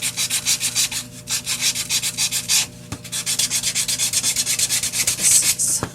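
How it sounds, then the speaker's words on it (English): A wooden hymn Christmas ornament is sanded by hand in quick, rhythmic back-and-forth strokes, close and fairly loud, with a brief pause midway before the rapid scratchy rubbing resumes. "you would sand it off at the same time"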